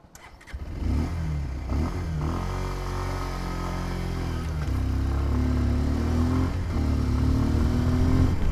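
A 2024 Bajaj Pulsar 150 motorcycle in first gear starts after a brief crank and settles into a steady, close idle, with a couple of light throttle blips lifting the engine note.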